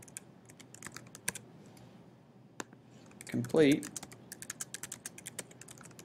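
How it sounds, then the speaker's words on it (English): Keys clatter on a computer keyboard in short bursts and sparse single taps, with brief talk partway through. "you do so by just typing into the box"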